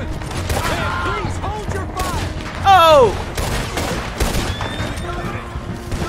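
Scattered gunshots from a firefight in the western game Red Dead Redemption 2, sharp cracks spread through the clip alongside a short loud whistling burst and voices talking over the action.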